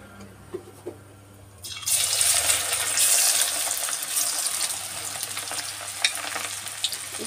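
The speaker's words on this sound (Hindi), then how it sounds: "हमारा गर्म हो चुका है, अब इसमें हम छोले डालेंगे।" Chickpeas dropped into hot mustard oil in a kadhai set off a sudden loud hissing sizzle after a quiet start, which stays strong and slowly eases, with a few light knocks.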